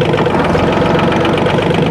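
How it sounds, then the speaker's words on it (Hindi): A Mahindra OJA 2127 tractor engine runs as the tractor rolls forward, a loud, steady, close diesel rumble with an even knocking pulse. No one speaks. "ट्रैक्टर आगे गया"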